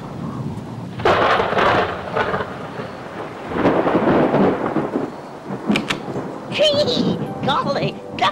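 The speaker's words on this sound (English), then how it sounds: "Did you hear that thunder?" Thunder rumbles and cracks through a storm with rain, with loud rolling bursts rising and fading over several seconds in a dramatic cartoon-style setting.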